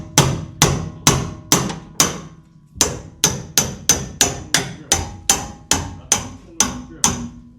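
A hammer strikes about twenty times in a brisk, fairly even rhythm, each blow a sharp close knock with a short ringing tail, with one brief pause after the first few hits.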